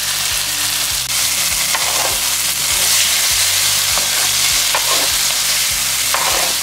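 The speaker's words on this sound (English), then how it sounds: "Let's add in our garlic." Garlic sizzles steadily in a hot pan beside pork-free frying noise, with a spoon or spatula stirring it in regular scraping strokes; loud, close and continuous, with no talking.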